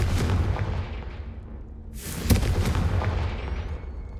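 A Confringo fire spell blasts in Hogwarts Legacy, a loud booming burst over a dense rumbling roar that dips, then swells again with a sharp crack and fades into a wide, noisy tail.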